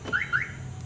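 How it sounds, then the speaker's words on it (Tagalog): An aftermarket car alarm installed on a Hyundai Accent gives two quick rising electronic chirps, close and fairly loud, over a low background hum. "makakasigurado kayo na mag-a-alarm ang inyong sasakyan"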